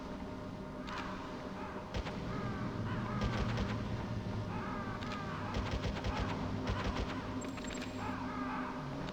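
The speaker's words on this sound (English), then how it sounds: "Oh, we got birds." Crows cawing in the Metal Gear Solid video game, a series of harsh repeated calls over a steady background ambience, moderately close with short bursts spread through the scene.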